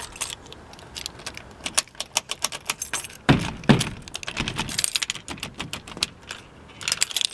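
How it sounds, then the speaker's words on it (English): Metal keys jingle and rattle in bursts, scraping and clicking against a stuck shop door lock, with a couple of louder knocks partway through; close and fairly loud. "Put the key in the door."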